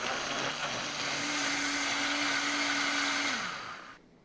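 A blender whirring through tomatoes, salt, oregano and cumin seeds, a steady loud motor drone with a rising whine that holds, then winds down and stops near the end.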